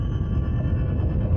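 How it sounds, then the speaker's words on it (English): A low-frequency seismic recording of an earthquake, heard as a steady, dense rumble with a faint hum above it that holds evenly throughout, with no voices. "here's an example of an earthquake, and it's all low-frequency energy."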